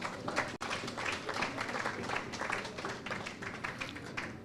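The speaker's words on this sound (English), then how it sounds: "give yourself a round of applause." Steady applause from a crowd, many hands clapping in a dense, even wash that continues without pause.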